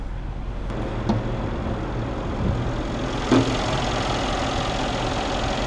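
A Mercedes S 63 AMG (2016) 5.5-liter twin-turbo V8 idling with a low, steady rumble and a couple of faint clicks; close and continuous, no voices.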